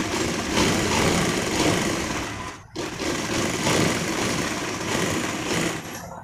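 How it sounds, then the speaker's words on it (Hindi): A sewing machine runs stitches along one edge of fabric while a sleeve design is being made. The motor whirs loudly and continuously, stops briefly near the middle, then starts again. No voice is heard. "यहाँ पे जो दोस्तों हमको इसके एक किनारे पर सिलाई लगा लेना है"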